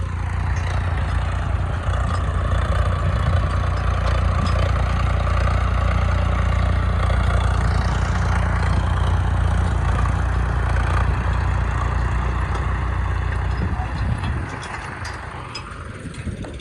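A farm tractor's diesel engine idles with a steady low rumble and constant mechanical drone, close and unbroken until it drops noticeably quieter near the end.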